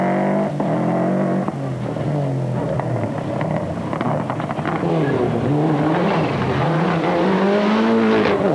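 Flat-six rally car engine at the 1995 Rallye Boucles de Spa in wet conditions, a loud continuous beat with rising and falling revs from a car under acceleration, close and steady throughout.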